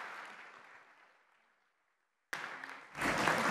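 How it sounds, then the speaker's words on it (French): Applause from a conference audience after a panel discussion on energy access in Africa fades out gradually into silence, followed by an abrupt cut to louder, broadband room sound. "On peut les applaudir."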